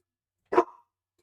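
A single short, sharp dog bark rings out once from moderately close, with silence before and after.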